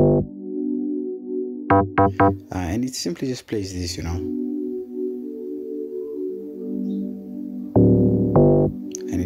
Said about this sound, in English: So the first bass, I have this E bass.